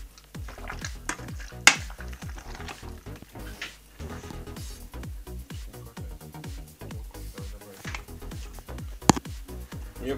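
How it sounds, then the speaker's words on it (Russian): Seasoned shashlik meat being mixed by hand or spoon with salt in a marinade, about three kilograms of meat, giving steady wet squelching and scraping strokes in a repeated rhythm, close and fairly quiet, with a couple of louder knocks against the bowl. "Теперь добавляем соли по вкусу и снова все перемешиваем."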